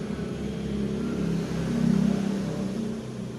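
A Honda S90 motorcycle running on its original engine gives a steady, close mid-pitched hum that swells slightly as it revs partway through, then settles back, with no voices.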